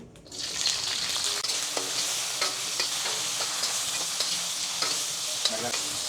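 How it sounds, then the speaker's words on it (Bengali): Long beans frying in oil in a steel wok, a steady dense sizzle throughout with scattered scrapes and stirring clicks, close and fairly loud with no talking. "আমি প্রথমে আগে বরবটিগুলো হালকা একটু ফ্রাই করে নিচ্ছি"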